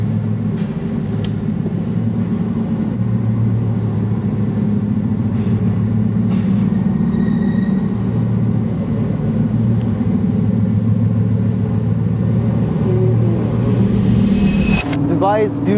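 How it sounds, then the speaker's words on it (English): A Bugatti driving through a Dubai street, heard from inside the car as a steady deep engine rumble and road drone throughout, with people talking over it. "Look at the Bugatti fit through this area."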